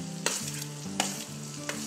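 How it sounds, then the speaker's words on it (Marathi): Thinly sliced onion sautés in a hot pan for a Diwali thali, with a steady low sizzle broken by three sharp stirring scrapes at regular intervals. "तो कांदा आपल्याला थोडासा परतून घ्यायचा आहे।"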